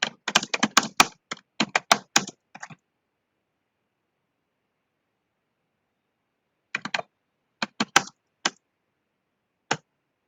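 Typing on a computer keyboard during an online class: a quick burst of close key clicks, a long silent pause, then scattered single keystrokes, with no voices.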